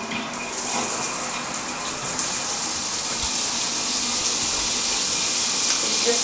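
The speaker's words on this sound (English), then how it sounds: "Let's see what the shower's like." Hotel shower water runs steadily, a continuous close hiss of spray splashing down with no pauses and no voices.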